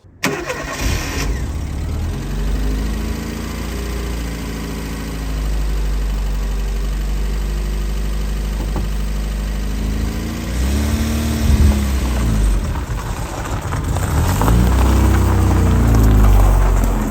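An early base-model Ford Mark V Escort engine cranks and fires at the start, then settles into a steady, close idle that swells toward a louder drive near the end, with no voices heard.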